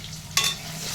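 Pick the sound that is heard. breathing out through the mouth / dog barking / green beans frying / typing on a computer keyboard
green beans frying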